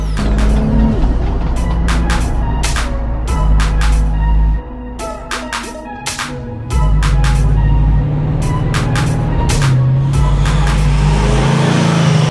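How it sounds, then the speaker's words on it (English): A Dodge Charger and a Toyota Supra idle together with a deep, loud engine rumble, broken by repeated sharp revs and popping bursts, then a brief dip before the rumble returns. "The Charger and the Supra are finally up and running together for the first time in who knows how long"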